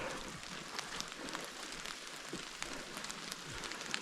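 Light rain patters steadily through a wet, overgrown mountain forest in the Beskids, a soft continuous hiss with faint scattered drops and no talking.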